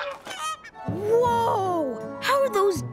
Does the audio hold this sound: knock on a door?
no